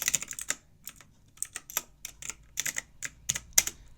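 Someone types code on a computer keyboard: quick, close bursts of crisp key clicks in irregular clusters with short pauses between them.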